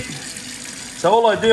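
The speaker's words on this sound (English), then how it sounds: "sorry for the noise from the water, but I'll just turn on just a little bit" A sink tap runs gently as a small stream of water rushes and hisses, with washing-up to clean an RC car body shell, and a voice starts talking over the flow near the end.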